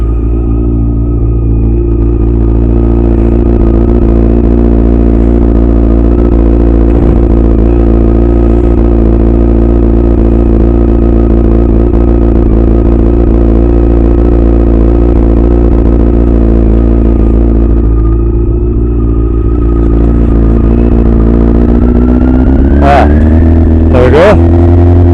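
Yamaha R6 motorcycle idling after its carburettors were refitted, a loud close steady engine rumble held for a long stretch, lifting slightly near the end, with voice heard over it.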